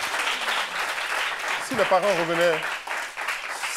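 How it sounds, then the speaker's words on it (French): An audience claps continuously while a voice briefly speaks over the applause partway through. "Est-ce qu'on peut applaudir?"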